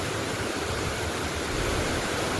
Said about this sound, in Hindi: भारी बारिश के चलते पानी डैम के ऊपर से बह रहा है।